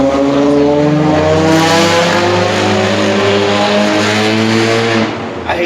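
A loud car with a buzzy, high-revving engine drives past close by, holding a sustained strained drone with steady harmonic tone for several seconds before fading at the end.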